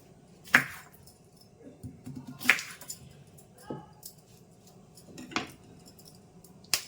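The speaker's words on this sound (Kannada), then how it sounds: "ಈಗ ಬ್ರೋಕ್ಲಿನ ಕಟ್ ಮಾಡ್ಕೊಳ್ಳೋಣ" A knife cuts broccoli into small pieces, giving a few sharp knocks and light clinks against the surface. The cuts are spaced a second or two apart and sound quiet and close, against a faint background murmur.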